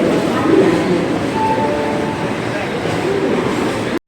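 A steady, heavy rumble of a Goa-to-Panvel express train pulling away and rolling along, close and continuous, with a faint murmur of voices underneath.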